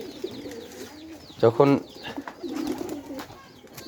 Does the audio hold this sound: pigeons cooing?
yes